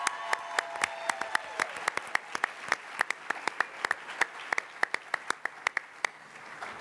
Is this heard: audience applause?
yes